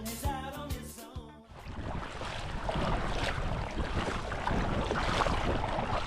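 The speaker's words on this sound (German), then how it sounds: "der Wind hat hier etwas aufgefrischt und kommt jetzt aus Westen" Wind blows steadily over the sea off a Croatian island, a broad rushing noise that rises after a brief burst of music and continues strongly.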